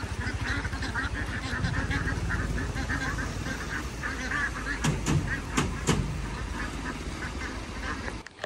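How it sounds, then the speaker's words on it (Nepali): Ducks quack while splashing about in clean river water along a stream bank in the morning, under a steady wash of flowing water. A few sharper sounds stand out near the end. "हाँसहरू कति रमाइलो गरेछन्, कति रमाइलो छ हाँसको।"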